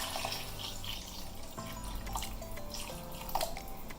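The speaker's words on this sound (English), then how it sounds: "I'm going to add more water." Water poured from a tap into a cooking pot for Nigerian fried rice, a steady close trickle and splash running the whole time with a few brighter drips.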